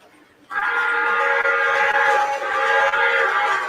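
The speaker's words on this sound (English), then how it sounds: "that train on the inner track is going fast" A model train runs fast on the inner track of a home layout, giving a steady, fairly loud whirring rumble with a faint tonal whine that starts abruptly and holds throughout.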